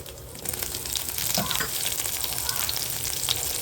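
Chana dal, urad dal and dried red chilies dropped into hot oil, giving a loud, continuous crackling sizzle with small pops, close up and rising right after they go in.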